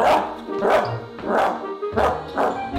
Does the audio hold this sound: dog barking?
yes